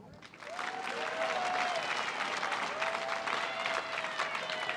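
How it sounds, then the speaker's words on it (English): Loud, sustained clapping from a graduation ceremony audience, rising quickly and holding steady, with a few faint whistling tones over it. "Let's get one more round of applause for all these past graduates"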